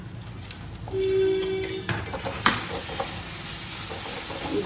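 Masoor lentils being stirred and fried in a pan for a pointed gourd dish, with a steady sizzle under a short scraping stir and a few spoon knocks, close and alone.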